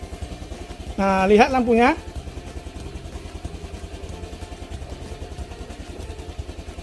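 A motorcycle engine idles steadily, started from a homemade battery, with an even low putter running through the whole clip and someone speaking briefly near the start.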